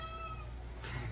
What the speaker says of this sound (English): this low frequency, low intensity cat that's meowing right now is the most stressful for me